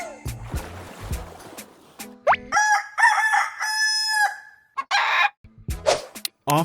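A rooster crows in the poultry yard, its full cock-a-doodle-doo ringing out clearly as one long call, with other animal noises heard briefly before and after it.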